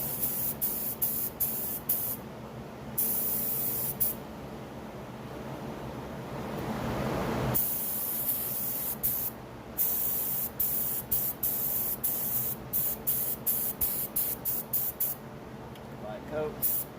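Spray can painting motorcycle pegs in short, repeated hissing bursts, close and loud, with one long continuous spray in the middle and someone speaking between the bursts.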